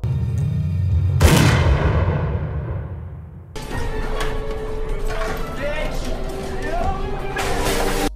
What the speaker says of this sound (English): the epic final resolution to Rachel avenging her sister is a cut to black gunshot